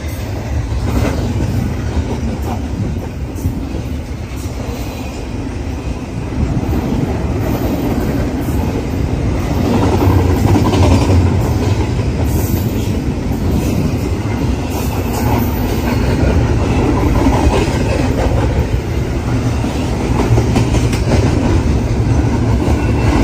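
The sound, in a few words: CN port container train passing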